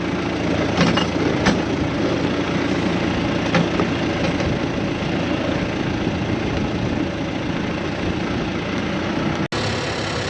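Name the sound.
truck engine running while being moved out of shed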